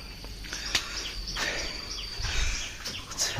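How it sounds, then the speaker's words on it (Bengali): Birds chirping around the grounds of an eco resort, light tweets and calls over a soft outdoor bed of insect buzz, close and steady with no talking. "পাখির আওয়াজ সুন্দর"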